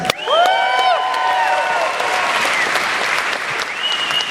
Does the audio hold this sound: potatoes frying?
no